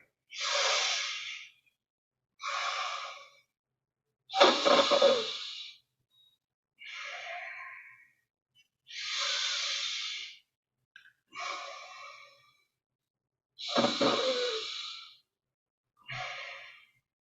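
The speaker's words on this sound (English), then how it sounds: "So I will breathe slightly, make some noise so that you can hear." Slow meditative breaths during a breathing demonstration, eight deliberate audible inhales and exhales separated by pauses of silence, close and fairly soft with no talk.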